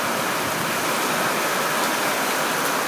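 Floodwater from a storm gushes and rushes beneath a tree and under a fence, a loud, close, steady roar of churning water with no pauses or voices.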